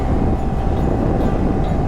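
A train runs past beside a highway in Maharashtra, a steady loud rumble close at hand throughout, with no voices.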